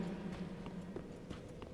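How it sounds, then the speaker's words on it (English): Horse hooves clip-clop at a steady walking pace in Dark Souls 3, a run of soft, evenly spaced thuds heard close over a low ambient game hum. "Hey! Horse?"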